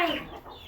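A chicken in a pen gives one short, close cluck, loud at first and trailing off quickly.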